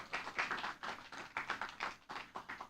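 An audience at a Toastmasters leadership forum applauds with steady, moderately faint clapping that continues evenly for a few seconds with no talk over it.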